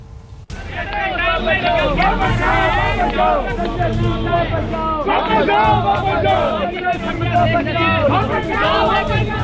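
A dense protest crowd at Jantar Mantar, loud and close, many voices shouting, booing and chanting slogans at once, steady throughout.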